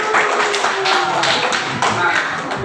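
A classroom group claps together in a brisk, continuous patter of hands close by, with a voice speaking faintly beneath.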